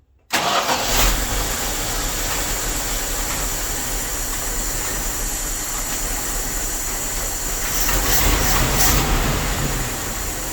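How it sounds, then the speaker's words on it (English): A Dodge W300 Club Cab truck engine with four dead cylinders runs with a rough, heavy rumble that rises slightly in intensity toward the end, steady and close, with no voices. "Let's fire it up, see what happens."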